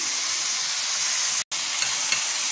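Chopped tomatoes go into mixed vegetables frying in a pan, giving a continuous close, bright sizzle with a brief cut-out partway through and faint stirring ticks.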